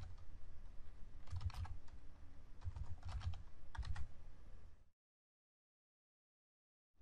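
Typing on a computer keyboard while writing SQL code, a few quick bursts of close, crisp key clicks for about five seconds, then silence.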